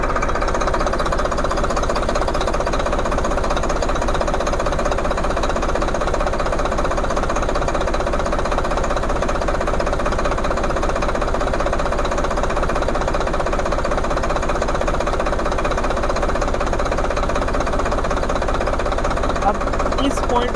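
A tractor diesel engine runs steadily up close after its fuel pump nut is tightened, a loud, even knocking idle lasting throughout with no pauses.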